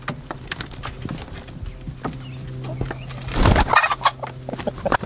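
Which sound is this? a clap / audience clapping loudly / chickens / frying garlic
chickens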